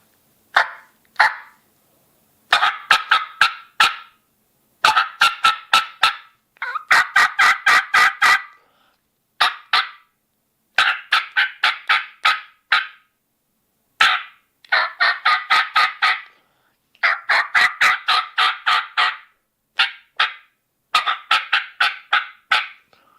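A turkey mouth call blown to imitate a raspy old hen with a high rasp, giving repeated loud series of yelps in short bursts separated by brief pauses, close and alone with no talking.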